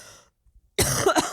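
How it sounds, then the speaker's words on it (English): A single cough right into a microphone, loud and close, after a brief trailing sound and a moment of near silence. "cough into the mic"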